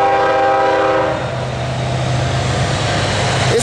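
A loud horn from a CSX manifest freight train on the Charlotte Subdivision blares over the heavy rumble of the passing train, then the horn stops and the steady roar of the rail cars continues.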